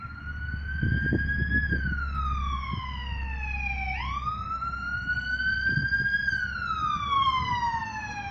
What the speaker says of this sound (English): That was the ambulance.